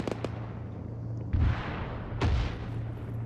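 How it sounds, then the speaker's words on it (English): A BTR armored vehicle fires in Arma 3 during a platoon defence: a few sharp shots early on, then two heavier booming blasts echo over a low steady hum. "Is that a BTR shooting at us?"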